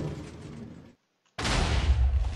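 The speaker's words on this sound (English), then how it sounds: "you still get the massive explosion" Stacked TNT minecarts blow up in Minecraft: a loud explosion rumble cuts out briefly, then a second, stronger blast bursts in with heavy low-end boom and sustained roar.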